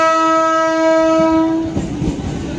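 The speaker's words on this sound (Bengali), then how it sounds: "ওই দেখেন হর্ন বাজাচ্ছে।" A train horn sounds loud and sustained as a passing train approaches, then breaks off into rumbling wheel noise and rail clatter as the cars roll by close at hand.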